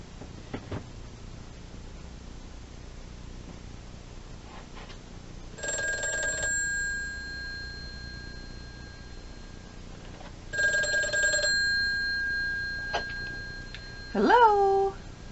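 A vintage rotary telephone's mechanical bell rings for an incoming call in two separate bursts, with a short sound just after the second burst and a brief voice near the end.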